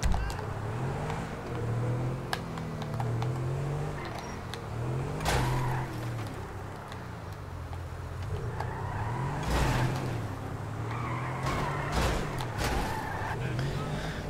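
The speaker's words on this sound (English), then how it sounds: "Handbrake turn." Car engine revving and tyres skidding through handbrake turns in GTA 5, with repeated loud screeches over steady motor drone and a voice talking throughout.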